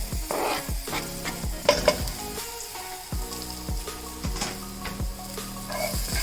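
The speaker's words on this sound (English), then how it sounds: "I'm now adding very finely chopped green chilies, ginger and some curry leaves to it." Green chilies, ginger and curry leaves frying with peanuts in a pan: steady close sizzling with a spoon stirring and scraping, bringing repeated clinks against the metal.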